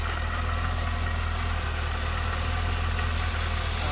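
A Cadillac CTS-V with a blown LSA engine idles with the dipstick pulled out, giving a steady, loud, close rumble that holds unchanged throughout with no voices.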